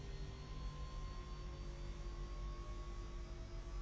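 Turbine engine number 1 spooling up during start in the X-Plane 11 flight simulator, a steady, even jet whine over a low hum with thin tones rising slowly, alone and without talk.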